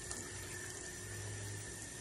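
Tap water runs steadily into a sink while raw chicken is washed under it, a continuous close hiss and splash with no talk over it.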